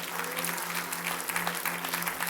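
A church congregation at a Malayalam gospel meeting claps together in a dense, continuous burst of applause that fills the room, steady and moderately loud throughout, with a low hum underneath.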